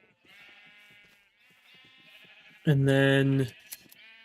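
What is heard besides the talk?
sheep bleating in the video game Minecraft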